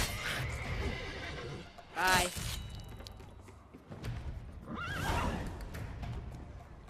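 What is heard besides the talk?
horses neighing and hooves in The Witcher 3 video game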